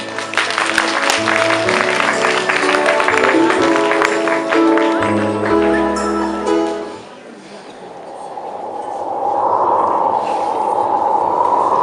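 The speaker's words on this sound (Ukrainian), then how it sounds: "Зустрічайте бурхливими оплесками" An audience applauds a theatre troupe's staging of Gogol's Night Before Christmas. Music plays first, then it gives way to a broad wash of clapping that swells steadily and fills the room.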